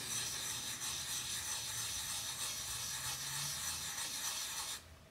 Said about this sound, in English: by rubbing it, a lot of the soot comes off